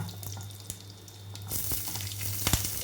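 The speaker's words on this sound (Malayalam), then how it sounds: "ഇതിലേക്ക് പച്ചമുളക് ഇട്ട് കൊടുക്കാം" Green chillies and curry leaves frying in hot oil with mustard seeds, a soft steady sizzle that jumps louder partway through as more goes into the pan, close up.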